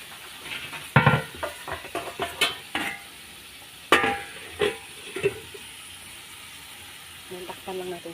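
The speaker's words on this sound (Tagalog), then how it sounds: "Magigisa tayo ng gulay." Vegetables for a pakbet stew sautéed in a pan, a low steady sizzle under scattered scrapes and knocks of stirring, close by and fairly quiet.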